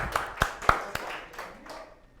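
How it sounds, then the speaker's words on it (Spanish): A church congregation welcoming a newcomer claps briefly: a handful of sharp, separate claps that quickly thin out and fade into quiet. "Vamos a darle un aplauso de bienvenida a César."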